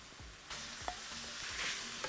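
Minced meat frying in a pan with salt and a spoonful of garlic, a steady close sizzle with soft stirring scrapes and a couple of light clicks, no talk.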